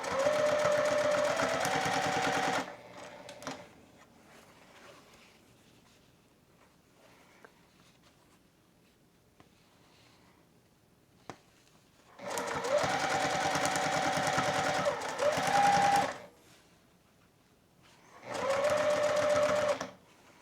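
A home sewing machine runs stitching through a thick dish mat on a wide stitch length, loud steady whirring in three bursts separated by quiet pauses with faint handling noises between.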